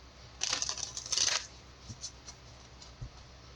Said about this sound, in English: Get a quick shuffle.